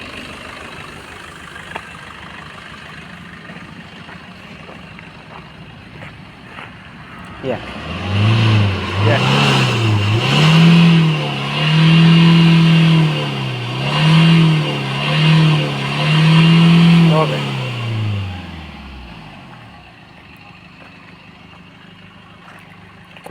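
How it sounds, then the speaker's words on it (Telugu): A motorcycle engine after a carbon clean runs and revs in several smooth rising and falling surges, loud and close, then settles back; brief talk comes before and during the running. "స్మోక్ తగ్గింది, బండి సౌండ్ స్మూత్ అయింది."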